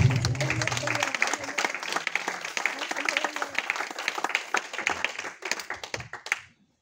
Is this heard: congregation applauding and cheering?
yes